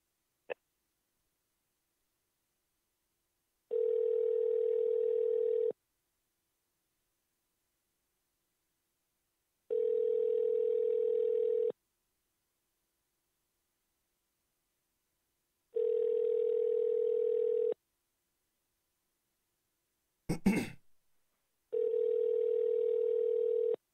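Telephone ringback heard while calling a courier service: four evenly spaced two-second ring tones separated by silence, with a brief click or rustle just before the last ring.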